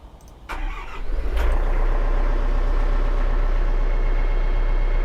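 A Rural King RK55 tractor's Yanmar diesel engine cranks briefly, catches and settles into a loud, steady, throbbing idle close by.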